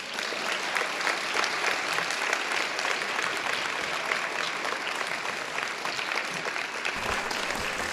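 A school board meeting audience gives a sustained round of applause, dense, even clapping from many hands that holds steady throughout at a moderate distance.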